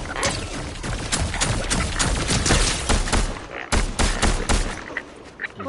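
Rapid pulse rifle fire in a Fortnite match, dense bursts of loud close shots crackling almost without pause, with a brief gap before the volley resumes.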